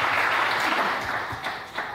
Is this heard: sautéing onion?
no